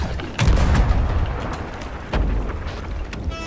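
Cannon fire in a pirate ship video game: two heavy, booming blasts about two seconds apart, each rolling into a loud, rumbling roar that fills the scene.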